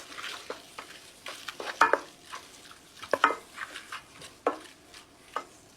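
Apples cooking down into applesauce in a pot, stirred with scattered scraping clinks and soft bubbling, quiet and close with irregular rhythm.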